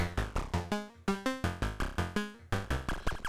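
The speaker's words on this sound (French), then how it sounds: "Ici c'est un son de FM en fait qu'on a avec le VSEC." Bright, metallic FM synthesizer notes from two oscillators in VCV Rack play in a quick rhythmic pattern, each one struck sharply and decaying fast, shifting pitch as the phrase moves along.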